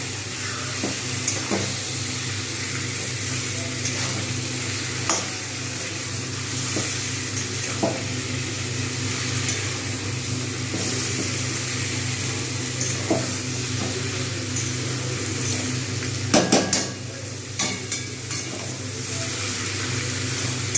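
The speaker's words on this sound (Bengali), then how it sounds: "এটা পেঁয়াজের সঙ্গে ভালোভাবে ভাজা হয়ে যাবে" Marinated chicken frying with onions in a pan gives a continuous sizzle and hiss, with occasional clinks of stirring and a louder scrape burst near the end, no voices.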